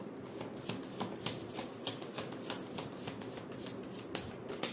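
Tarot cards shuffled by hand in a quiet room, a steady run of crisp papery riffles and flicks with sharp little snaps, close and fairly soft, no voices.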